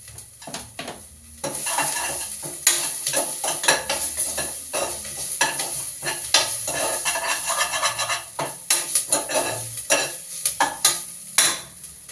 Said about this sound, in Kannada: ನೆಕ್ಸ್ಟು ಕರ್ಬೇವಿನ ಸೊಪ್ಪನ್ನ ಆ್ಯಡ್ ಮಾಡ್ತಾಯಿದ್ದೀನಿ